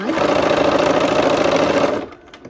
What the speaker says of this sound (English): We're gonna go ahead and sew.